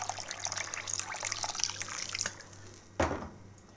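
Water splashes and trickles as a small amount is poured into a pot of rice, a soft close pouring that tapers off before a brief final splash.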